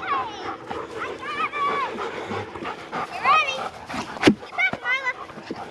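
Dogs whimper, yip and give short barks near the microphone, sounding restless and worn out, with people talking over them throughout.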